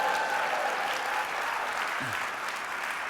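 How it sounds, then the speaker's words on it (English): Keynote audience of photographers clapping for the backstage sound technician, a full, continuous round of applause with a brief faint tone early on and a low thump near the end. "Give them a round of applause, would you?"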